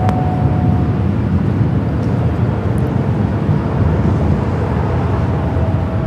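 An airliner approaches runway 24 Left at Los Angeles LAX airport with a continuous distant jet roar and rumble that holds steady throughout.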